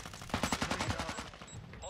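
Automatic rifle fire in Call of Duty Modern Warfare II, a rapid run of about a dozen evenly spaced shots that thins out near the end, fairly close and moderately loud, with no speech over it.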